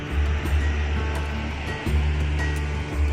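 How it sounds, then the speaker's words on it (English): Stigafoss waterfall on a Norwegian mountain road, heard as a steady, loud roar of rushing water that fills the whole clip, with a faint low rumble that could be a nearby motorcycle engine. "I got to enjoy Stigafoss waterfall"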